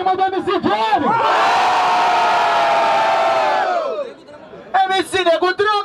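A crowd at a 2016 freestyle rap battle final in Rio de Janeiro erupts in a loud, sustained roar of cheering and shouting lasting about three seconds. An MC's amplified voice speaks before and after the roar.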